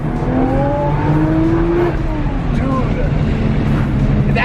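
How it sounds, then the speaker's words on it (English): A Liberty Walk widebody Lamborghini pulls hard in first gear, its loud engine climbing steadily in pitch under constant road and wind roar, with voices faintly present. "first gear pull"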